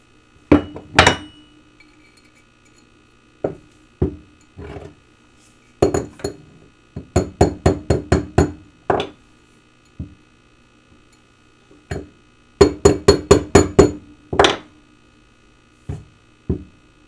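Hand-shaping scrap metal on a step mandrel: sharp hammer strikes ring out in scattered single blows and quick bursts of five or six, each with a bright metallic clink, close and alone.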